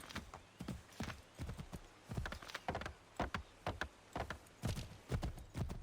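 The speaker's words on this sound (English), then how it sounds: "Get on the horse." Horse hooves in the video game Assassin's Creed III clop in a quick, steady galloping rhythm, each beat sharp and close, continuing without pause throughout.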